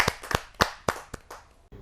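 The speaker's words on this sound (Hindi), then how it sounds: "जो जोरदार ताली के साथ हम उनका स्वागत करें।" A small audience at a Hindi kavi sammelan poetry gathering claps to welcome a poet: about seven separate, sharp hand claps, close and irregular, with no voices over them.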